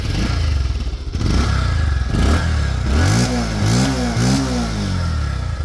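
A second-hand Bajaj Pulsar motorcycle engine, loud and close, idling roughly before revving up and down in several sweeping bursts with clattery mechanical noise.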